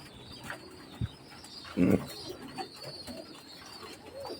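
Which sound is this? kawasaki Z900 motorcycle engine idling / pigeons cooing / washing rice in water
pigeons cooing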